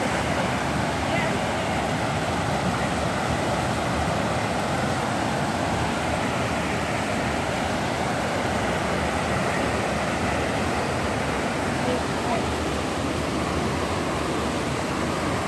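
Gee Creek waterfall rushes in a loud, steady broadband roar of falling water that stays constant and close, with people talking faintly over it.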